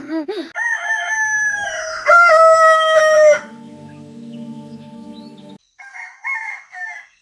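A loud rooster crows close by, a full drawn-out call, followed by lower clucking sounds and another short bird call.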